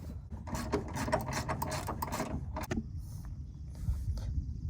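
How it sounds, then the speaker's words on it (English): Ratcheting on the top shock-mount bolts of a 2016 Mazda 3 during rear coil spring and shock replacement, a dense run of rapid clicking and rasping for nearly three seconds, then quieter intermittent workshop sounds. "we're going to go ahead and tighten up these top bolts for the shock"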